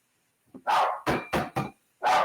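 An agitated dog barks five times at close range, a sharp bark followed by a rapid run of three and one more after a short pause, loud and clear without speech.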